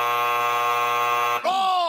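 A loud, harsh electronic buzzer drones steadily, then breaks off briefly and returns with a wavering, bending tone.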